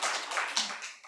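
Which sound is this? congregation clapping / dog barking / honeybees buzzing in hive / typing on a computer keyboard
congregation clapping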